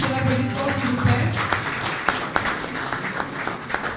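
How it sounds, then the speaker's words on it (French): Audience applause at a diploma ceremony closing a political conclave in Brussels, a burst of clapping with scattered sharp claps and some voices mixed in at the start, fading to sparser claps. "Toujours tous vos applaudissements s'il vous plaît."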